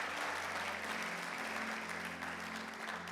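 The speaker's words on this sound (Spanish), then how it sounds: "¿Cuánto le ofrecen una ofrenda de palmas al Señor?" A church congregation applauds in steady, dense clapping that fills the whole stretch at an even level, with a low hum underneath and no voice standing out.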